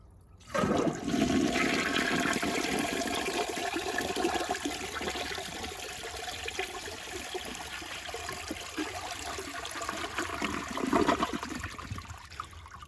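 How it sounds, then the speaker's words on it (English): A Jacuzzi Perfecta toilet flushes loudly, a strong rushing swirl of water that lasts several seconds and then tapers into refilling trickles. "has a pretty good flush."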